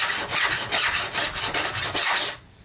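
A metal file rubs back and forth along the edge of a steel card scraper on a bench, about ten quick, even rasping strokes close up, then stopping.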